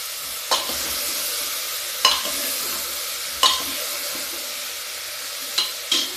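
Tomatoes tipped into ridge gourd frying in a pan, a steady loud sizzle broken by four or five sharp stirring scrapes spaced a second or more apart.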